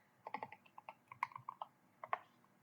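Computer keyboard typing, a quick irregular run of soft close key clicks in two short bursts, quiet and alone without talk.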